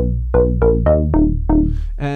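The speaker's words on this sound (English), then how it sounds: "I've created this bass, which is a little more of a house bass" A punchy Moog Grandmother synthesizer house bass line plays a series of short plucked notes in a bouncy rhythm, loud and up front with nothing else.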